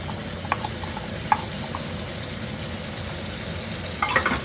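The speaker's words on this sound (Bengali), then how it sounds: "এবার আমি মশলাটাকে আবার ভেজে নিই" Cumin and ginger paste with garlic and chilli paste frying in a pan for a meat curry, a steady close sizzle with a few sharp spoon taps and a brief scraping burst near the end.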